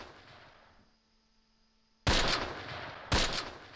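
Two sharp, loud gunshot cracks from a Close Combat battle near Romagny in 1944, each followed by a decaying rumble, coming after a quiet lull with a faint hum.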